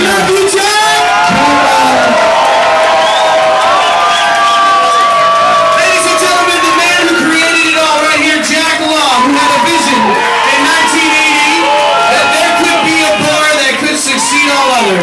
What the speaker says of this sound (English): Ladies and gentlemen, applause and bring up Jack Law